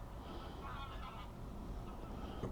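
Geese honk on a lake, faint distant calls rising over steady outdoor background noise, with no talking.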